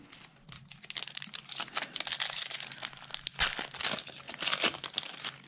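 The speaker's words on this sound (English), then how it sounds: "That pack ripped open real easy" A Magic: The Gathering Kaldheim draft booster pack wrapper being ripped open, close-up crinkling and tearing of foil plastic in quick bursts, fairly quiet with no talking.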